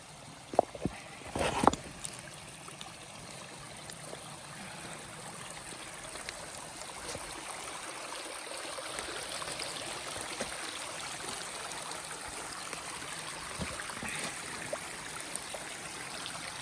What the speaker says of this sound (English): Pretty little stream, isn't it?